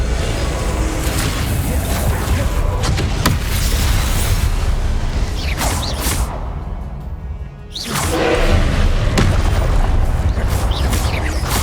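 Booming fire-spell blasts in the wizarding game Hogwarts Legacy burst over and over in a loud, dense battle mix, with a short lull before the explosive clamor resumes.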